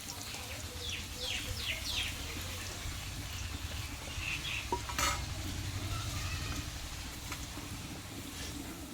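Snacks frying in hot oil for a quick evening tea-time tiffin, a steady close crackling sizzle throughout, with faint bird calls in the background and a brief clink midway.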